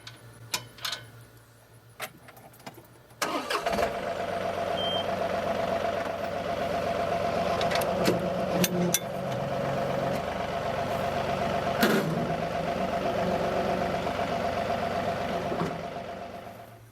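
After some light clanking, a tractor engine starts and runs at a steady idle, a low mechanical drone with occasional clicks and knocks, while setting up a Frontier WC1105 PTO wood chipper.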